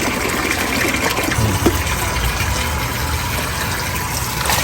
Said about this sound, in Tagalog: pabanlaw na siya banlawan mo ng buti Mark ha para malinis